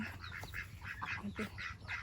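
Several ducks quacking repeatedly in quick, overlapping bursts, close by, over a low background hum.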